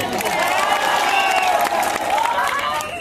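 Spectators at a volleyball semi-final between WB Fighter and OD Fighter clap and cheer in a dense, continuous crowd roar, while an announcer's voice runs over the noise.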